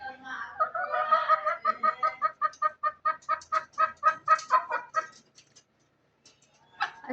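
Caged desi chickens clucking close by: a quick rhythmic series of about a dozen sharp clucks building then stopping, followed by near silence and one last short call.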